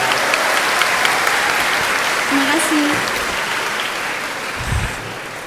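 An audience applauds steadily through the whole moment at a public talk event, dense and fairly loud, while someone briefly speaks over the clapping.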